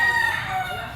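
Short close-up crow from a Sweater Kelso bloodline gamecock, yellow-legged, heard as one loud, slightly wavering call lasting about a second.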